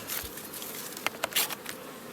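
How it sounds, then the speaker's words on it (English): Bees buzz in a low, steady hum, with a few brief clicks and taps of hive parts being handled close by, during a newspaper combine of two colonies. "These bees will get squished."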